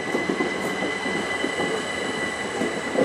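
A train leaving Ramsgate station on the 12:25 service toward London Charing Cross rumbles steadily with a broad, continuous roar and faint wheel noise, heard from the platform with no one speaking.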